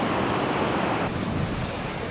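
Ocean waves wash in at an Australian beach, a loud continuous roar of surf with wind buffeting the microphone and no voices.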